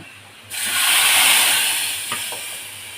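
A kulith (horse gram) flour mixture is poured into hot oil with browned garlic and bursts into a loud, sudden hiss that swells, then slowly dies down over a couple of seconds, close and with no speech.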